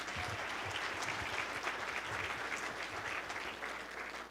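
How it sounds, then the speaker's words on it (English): Sustained crowd applause at a New Year's gala, a dense, steady clatter of many hands clapping that holds level for the whole stretch and tapers only slightly at the end. "Give yourselves a round of applause."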